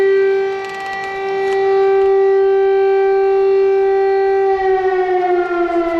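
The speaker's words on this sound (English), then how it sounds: "all night there were sirens going off" A loud air-raid siren wails steadily at night in a Ukrainian border town, a sustained tone that holds and then slowly falls in pitch, with no other sounds around it.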